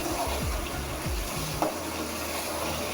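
Ground amla paste, gooseberries blended with their seeds, being stirred continuously in a hot pan, a steady sizzle with soft scraping strokes of a spoon and one brief knock, no talk.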